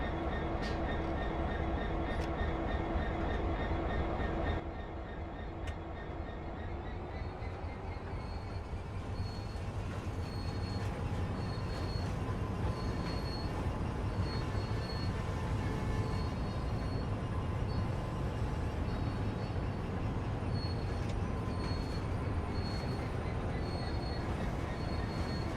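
A train running in the Train Sim World video game gives a steady, continuous rumble of rolling stock with wheel noise and faint squeals, loud and close throughout, with no talk.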